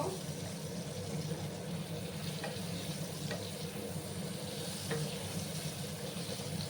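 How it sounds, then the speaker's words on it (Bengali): Ash gourd fries in a pan, giving a constant dense sizzle close by. Faint occasional clicks come from a spatula stirring it, and the sound stays even throughout with no talking. "আবার ভালো করে আমি নাড়াচাড়া করে দিলাম।"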